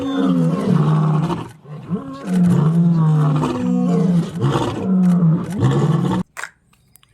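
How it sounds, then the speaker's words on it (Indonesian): A toy lion lets out a series of loud electronic roars and growls in repeated bursts, close and harsh, before cutting off abruptly into quiet. "ini singa teman-teman."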